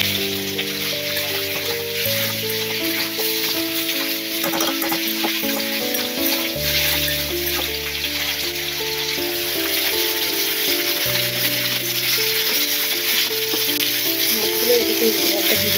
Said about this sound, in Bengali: মাছগুলো এদিকে ভেজে নেব।